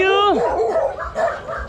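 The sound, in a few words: dogs barking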